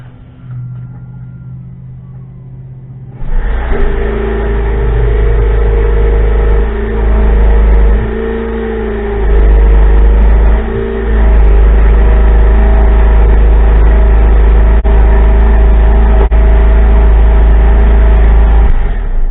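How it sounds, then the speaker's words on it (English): Jeep Wrangler with the 3.6 engine and factory muffler. After a quiet start the engine starts and settles into a loud, steady low idle drone, swelling slightly a couple of times. "before we pull this muffler off, let's let you hear it, how it sounds right now"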